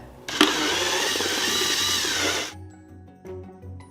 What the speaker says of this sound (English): I'm gonna use my drill to drill a hole at the bottom of the cauldron so that I can feed the cord through it